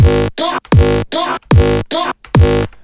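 Synthesizer tone with an LFO gating the oscillator level in quarter notes, giving a rhythmic pattern of six loud, buzzy, harmonically rich pulses cut by short silences, close and alone.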